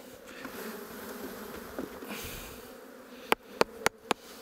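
Honeybees buzzing around hive frames, a steady low droning hum close by, followed by four quick sharp clicks near the end with no speech.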